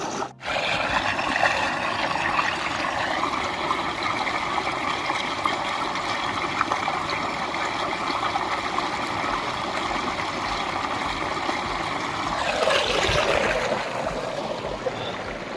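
Fresh water flowing steadily from a village tap or pump, a continuous broadband rush with a low mechanical hum underneath, heard close and alone for most of the stretch before the flow shifts near the end.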